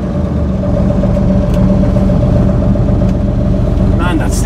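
A Mercedes-Benz Unimog pulling away, its diesel engine a loud, steady, close rumble with a low throb throughout. A voice is heard over it.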